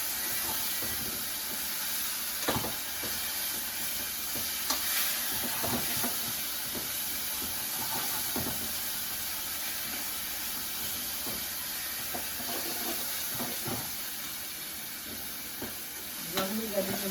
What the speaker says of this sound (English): I'm going to be getting the browning for the meat.